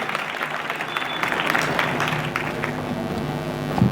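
Students at an Indian inter college motivational class give a loud, continuous round of applause, a dense steady roar of many hands clapping together, filling the room without pause.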